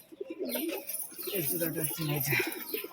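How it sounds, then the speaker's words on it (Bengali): A male giribaz pigeon coos in soft, repeated throaty bursts close by, mixed with a nearby human voice. "এ হচ্ছে গিরিবাজ পায়রা"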